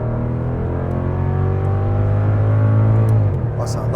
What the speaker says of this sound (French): On va quand même mettre une petite accélération.